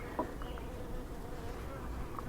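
A honeybee buzzes right up against a beekeeper's face while a hive is being worked, its steady drone loud and close with slight swells as the insect moves around, with no talk.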